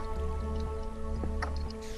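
Water dripping and squishing in a video game, a few soft wet drops and splashes over a steady tonal game background.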